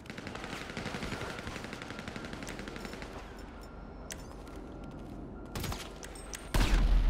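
Rapid automatic gunfire and scattered shots from GTA V Online crackle steadily at mid distance, ending in a sudden loud explosive burst.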